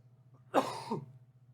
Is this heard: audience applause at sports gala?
no